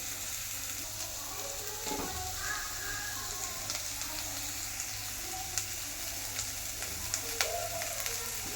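Capsicum and onion fry quietly in a pan, a soft continuous sizzle with occasional light clicks and scrapes of a spatula, fairly faint throughout.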